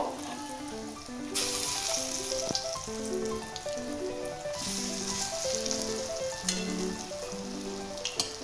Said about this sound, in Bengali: ধোকাগুলো আমি হালকা আঁচে ভেজে নেব